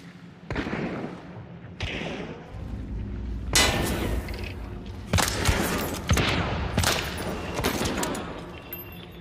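Gunshots in the video game Hunt: Showdown, several loud cracks and thuds in a rough rhythm over a steady rumble, with other bursts joining near the middle and end.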